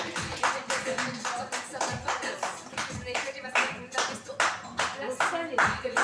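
Audience at an open-mic stand-up comedy night claps after a comedian's set. Close, uneven handclaps from a small crowd in irregular bursts, with a voice or two mixed in.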